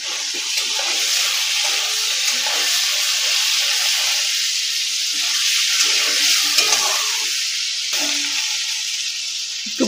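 Hilsa fish head frying in oil in a pan, a steady hiss and sizzle running close and unbroken throughout with faint stirring scrapes and no voices.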